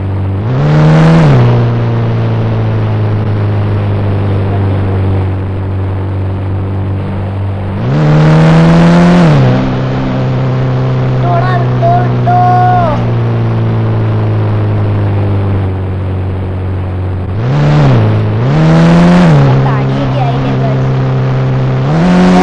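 Toyota Fortuner engine in the video game GTA V, a loud droning hum that surges in repeated revs as the car accelerates, with a voice talking over it.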